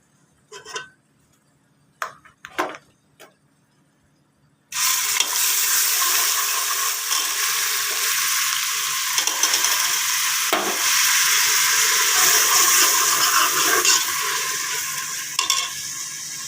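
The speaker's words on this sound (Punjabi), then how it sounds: "ਤੜਕਾ ਪੱਕਣ ਤੱਕ ਇਹਦੀ ਵੇਟ ਕਰਾਂਗੇ" Ginger, garlic, green chilli and onion hit hot oil for a tempering and burst into a loud, close sizzle that holds steady. A few clinks of utensils come first, and there is no talk.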